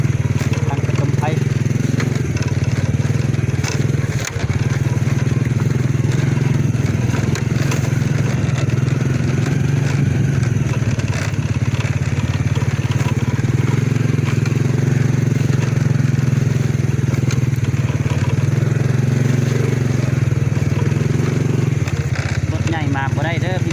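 A motorcycle rumbles steadily along a rough road toward Phu Pha Nang, its mid-pitched engine drone continuous and close with occasional jolts and rattles, while someone talks over it throughout.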